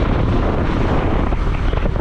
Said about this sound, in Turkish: Rüzgardan siz şimdi büyük ihtimal benim sesimi duyamıyorsunuz.